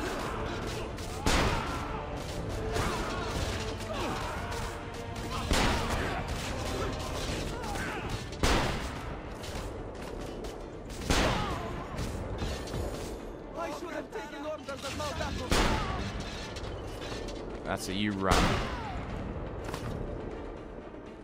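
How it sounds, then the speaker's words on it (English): Cannon fire and gunfire in the Assassin's Creed Revelations video game, heard as several sharp, heavy booms spaced a few seconds apart within a busy battle din, with a player talking over it. "Cannon fire."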